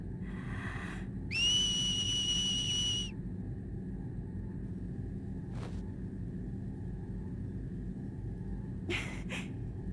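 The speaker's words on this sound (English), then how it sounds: "Wonder if a whistle would work here." A single sustained whistle in Dissidia 012 Duodecim Final Fantasy rises over a low, constant rumble for about two seconds, followed by a few faint clicks and a brief burst near the end.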